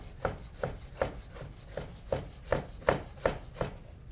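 A knife rough-chops grilled vegetables on a cutting board in about ten evenly spaced, crisp thuds at a steady rhythm, close and fairly quiet, with no talking.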